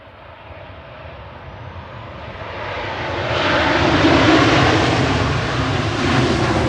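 A 23-year-old Jet2 Boeing 737-800 arriving from Split at Manchester Airport roars past, its engine noise swelling from a moderate rumble to a loud, sustained broadband roar with no voices.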